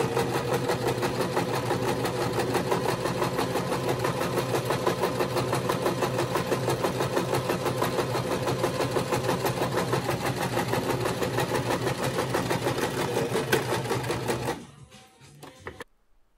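Sewing machine stitching a seam along cotton fabric, a steady close rapid mechanical whir with fast even needle ticking running unbroken for about fourteen seconds, then stopping abruptly with a few faint clicks.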